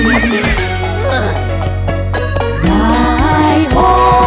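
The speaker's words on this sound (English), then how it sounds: "Three times my horse neighs for me." A horse neighs loudly in a children's farm song, several drawn-out whinnies with falling pitch close up, with faint clip-clop under them.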